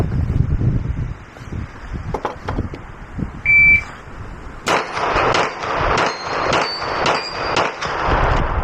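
A Glock 17L pistol fires a quick string of loud, close shots in a steady rhythm. A sharp electronic beep from a shot timer comes just before the shooting starts.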